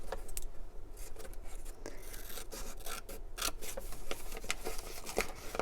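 Scissors cutting paper for a journal, a quiet close run of short snipping and rustling strokes in irregular rhythm, with no voices.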